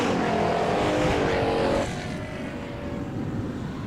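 Factory stock race cars roar around the Perris Auto Speedway dirt oval, a loud, continuous engine drone that fades slightly partway as the pack passes, with no talk over it.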